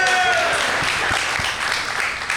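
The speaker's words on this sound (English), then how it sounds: "Yeah, you can clap for that." An audience claps in an esports arena at a university talk, a short, moderately loud wash of applause that tapers off over two seconds.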